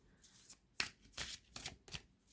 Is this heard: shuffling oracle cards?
yes